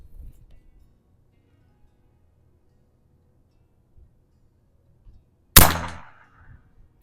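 A single sharp crack from a Barra .25 caliber PCP air rifle firing near the end, loud and close, with a short decaying tail after a mostly quiet stretch holding faint low thumps.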